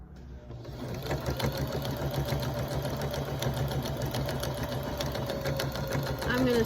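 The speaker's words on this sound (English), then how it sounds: "I'm going to sew almost to the edge, maybe 1/4 inch from the edge." A sewing machine runs steadily, stitching binding along the edge of a quilt at a constant hum with a dense mechanical chatter that holds throughout and rises slightly at the end.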